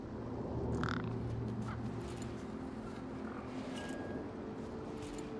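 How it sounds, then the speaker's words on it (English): Crow-like caws from birds in the video game Beyond a Steel Sky, a few scattered calls over a steady ambient background, with no talking. "You see all these birds all over the place?"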